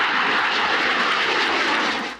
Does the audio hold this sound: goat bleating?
no